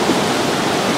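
Mountain water flowing in Uttarakhand, a loud, dense, continuous rush like a small waterfall or stream, heard close and unbroken with no voices.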